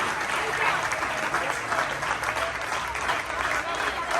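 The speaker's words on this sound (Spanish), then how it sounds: "Cuando aplaudan para Cristo, así culmina." Congregation applauding during a church congress sermon, a dense, steady wash of many hands clapping at full volume throughout, with voices mixed in.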